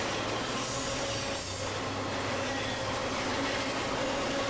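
A steam locomotive train rumbles steadily past with a continuous, loud roar and faint rhythmic rail noise, no voices.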